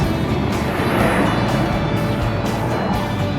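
A Ford Mustang GT coupe on a test drive, a loud, steady engine and road roar heard from inside the car, continuous and unbroken with no voices.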